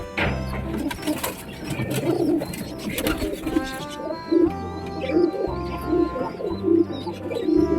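A male pigeon and other pigeons coo repeatedly in soft, rhythmic low calls close by, over a steady backdrop of background music.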